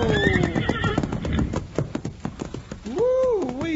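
Wild horse in a radio drama neighing loudly, with clip-clop hooves beating rapidly underneath, then a second long whinny near the end, close and prominent.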